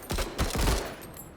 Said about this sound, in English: So we are just going to keep shooting at these guys.